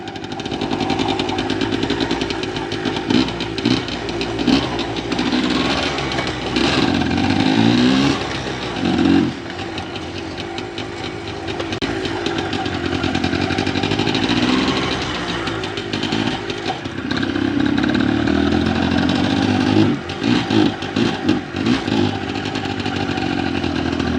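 An old motorcycle engine runs steadily close by, its rough chugging rising and falling with repeated revs across the whole stretch, loud and continuous with no talk over it.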